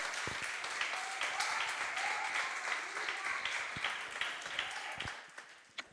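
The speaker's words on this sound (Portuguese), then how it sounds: "Você pode aplaudir o nome do Senhor?" Church congregation applauding during a Portuguese-language sermon, sustained crowd applause heard at a distance, gradually thinning out toward the end with a few scattered claps.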